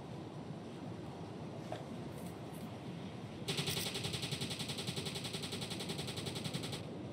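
Machine-gun fire in the U-Boat submarine video game, a faint single shot followed by a sustained rapid burst of rattling gunfire over a low wind-like background, heard at a distance.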